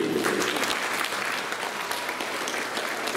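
A large audience at a Tamil New Year celebration claps continuously, a dense, even burst of applause with no pauses.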